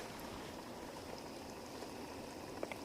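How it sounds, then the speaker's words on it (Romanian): Steady bubbling and gentle simmering of chicken biryani in a pot over low heat, a continuous soft hiss with small pops, fairly quiet and close. "Încă fierbe la focul ăla mic"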